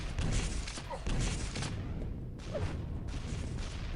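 Rocket launcher blasts in Quake as a player rocket-jumps, a run of heavy, muffled booms and thumps with bursts around one second and two and a half seconds, over steady game noise.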